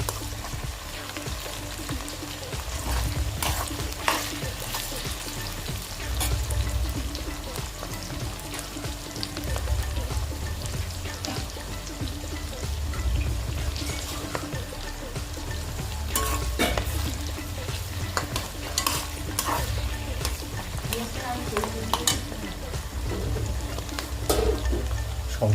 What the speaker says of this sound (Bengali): 5 মিনিট পেঁয়াজগুলো ভাজা হয়েছে